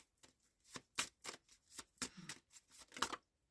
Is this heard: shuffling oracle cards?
yes